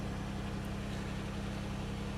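A Buick car engine idles steadily, a continuous low droning hum that holds an even pitch throughout, fairly close and alone with no talking.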